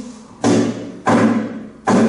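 Golpe taps struck with the middle finger on the top of a flamenco guitar, three dull, resonant thumps spaced under a second apart, close and fairly loud with no talking.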